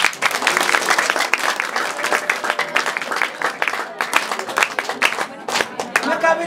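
A church congregation bursts into sustained, lively clapping, close and loud with rapid uneven beats, while voices carry on underneath.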